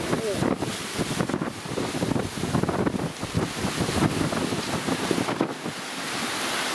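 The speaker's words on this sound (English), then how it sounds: "Sorry about the wind." Gusty wind buffets a microphone outdoors on a small farm, making a continuous rough rumble and hiss that rises and falls irregularly throughout.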